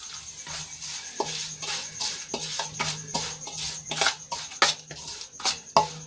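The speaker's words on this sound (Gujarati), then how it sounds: "આના રીતે સરસ હલાવી લઈશું." A spoon stirs spices and hot oil in a bowl for an instant carrot pickle, giving repeated scraping clinks and taps against the bowl in an uneven rhythm, close and clear, with no talking.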